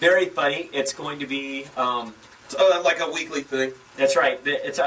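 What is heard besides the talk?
No distinct noise like a dog, phone or traffic.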